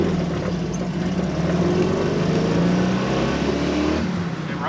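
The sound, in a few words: tiny Honda car accelerating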